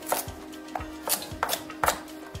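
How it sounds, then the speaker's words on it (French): A knife chops onion coarsely on a board, about six quick crisp strikes in an uneven rhythm, close and alone. "Un petit peu d'oignon coupé grossièrement."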